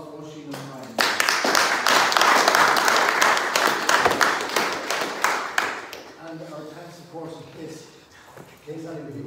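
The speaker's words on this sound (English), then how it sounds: "Big round of applause for Oisín and Brian" A room applauds for Oisín and Brian at the Meath minor football and hurling championship draws, a burst of loud close clapping lasting about five seconds between stretches of talk.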